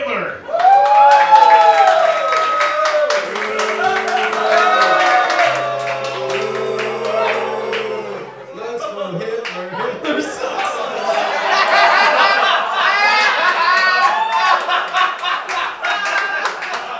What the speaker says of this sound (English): please give a round of applause for Adolf Hitler